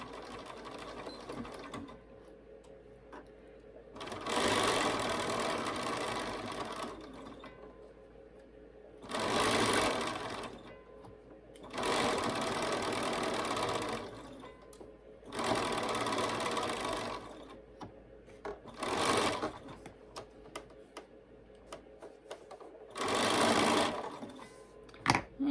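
A sewing machine stitching a quilt block seam runs in five or six bursts of a few seconds each with quiet pauses between, close and fairly loud in a quiet room.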